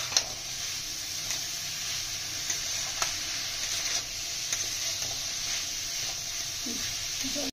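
Potatoes frying with spices in a pan for a Bengali prawn and vegetable curry, giving a continuous hissing sizzle with faint scrapes and taps, no talking.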